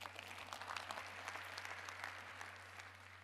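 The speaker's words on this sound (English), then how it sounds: "Let's give Marku a big round of applause." Audience applause during a public speaking workshop session, continuous scattered clapping from a modest crowd, fairly quiet and steady throughout with a low electrical hum beneath it and no talk.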